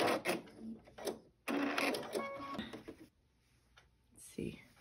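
A sewing machine fitted with a denim needle stitches through multiple layers of upcycled jean fabric in short rattling runs, heard close under a person talking.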